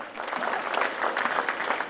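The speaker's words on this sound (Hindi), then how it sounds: "तो प्लीज़ एक बार ज़ोरदार तालियों से स्वागत करिए" Audience applause welcoming a singer on stage at a cultural dance performance event, a steady dense wash of clapping from a large crowd filling the short moment without pause.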